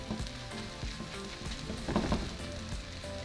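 Breakfast burrito filling sizzles steadily in a pan while medium cheddar cheese melts over it, a soft continuous crackle with small pops, close and fairly quiet, with no voices.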